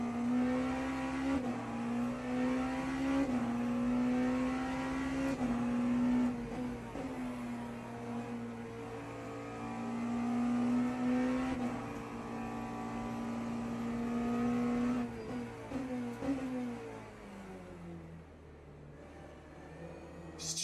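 Porsche 963 hybrid prototype race car engine in the Le Mans Ultimate sim, a loud steady drone holding pitch through long stretches with brief shifts and dips, then fading near the end, with no talk over it.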